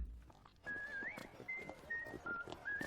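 A man whistles the jaunty march "Soldiers of the Queen" in short clear phrases, fairly close, over faint background noise.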